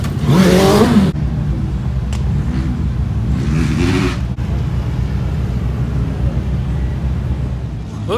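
Drift cars rev their engines at the CarFest South 2019 motor show, a loud, deep rumble with a sharp rev at the start and a continuous roar beneath outdoor crowd noise.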